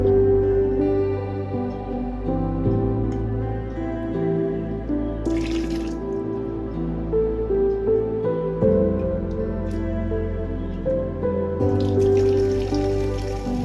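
An aquarium water change on a newly planted tank, with water being siphoned out and refilled: continuous gurgling and trickling flow with drips, two brief bursts of splashing, close and steady.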